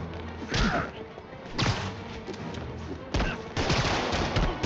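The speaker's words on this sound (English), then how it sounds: "Open fire!" Bursts of gunfire break out in the Spider-Man Remastered video game, with loud, dense volleys and thuds arriving in three or four clusters over steady background din.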